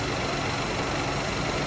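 A car engine idles close by, a dense, steady broadband rumble with no breaks, loud and continuous over the short stretch.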